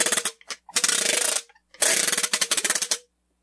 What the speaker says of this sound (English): Here is a ratchet made totally out of wood.